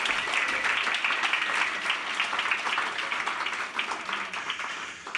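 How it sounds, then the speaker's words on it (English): Sustained audience applause at a literary reading event, a broad even wash of clapping that tapers slightly toward the end. "They all deserve a round of applause"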